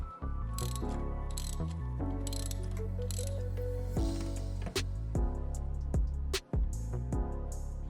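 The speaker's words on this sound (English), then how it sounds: "using my spark plug socket, I just remove the spark plug." A spark plug socket on a ratchet works a spark plug out of a Toyota Tacoma engine, giving repeated close metallic ratcheting clicks and clunks with short pauses between turns.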